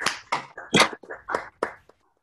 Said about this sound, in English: you can also unmute yourselves and we can probably give a big round of applause